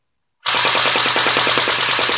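Electric G36 C airsoft rifle firing on full auto, a loud, rapid, steady burst of mechanical shots starting abruptly after a brief silence and continuing without pause.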